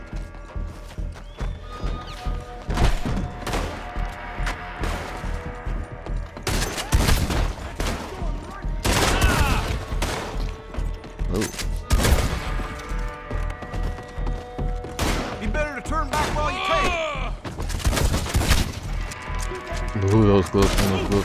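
Rapid bursts of gunfire crack and pop in a video game shootout. Horse hooves clip-clop and a horse whinnies among the shots, and a voice talks over the action.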